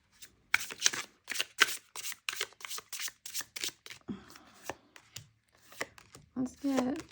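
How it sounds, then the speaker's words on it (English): Tarot cards are shuffled close up in a quick series of crisp riffling bursts, pausing briefly, with a voice speaking softly near the end. "Real shuffling."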